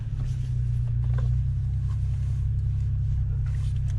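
BMW F10 535 with N55 engine and muffler delete idling inside a garage, a steady deep exhaust rumble with a few faint burbles and pops over it, close and continuous throughout.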